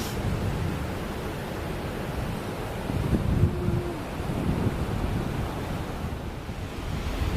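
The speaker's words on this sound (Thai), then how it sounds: "น้ำไหลลงมาจากเขื่อนเลยค่ะ" Steady, loud rush of water falling from a dam in Belgium, a constant broad roar with no voices.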